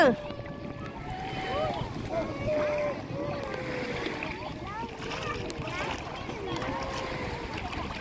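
Boats on the water at Port Dickson with splashing and lapping waves, a continuous wash of water and wind, with people talking over it throughout.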